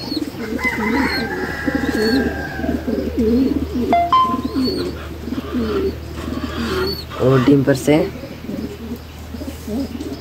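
Pigeons coo and chirp inside a pigeon house, with a steady murmur of soft calls and brief higher tweets, while someone talks over them throughout.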